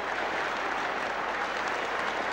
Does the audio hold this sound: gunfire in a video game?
no